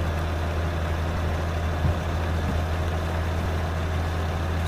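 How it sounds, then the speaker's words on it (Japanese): A truck engine in the Truck Simulator Ultimate video game hums with a steady, loud low-pitched idle drone, heard with the cab window open, continuous and unbroken, without any voices. "エンジン音でかくなりましたね今"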